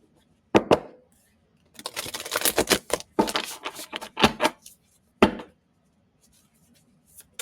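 Oracle cards being shuffled by hand: a couple of sharp taps, then bursts of quick riffling and slapping, close up, separated by silences.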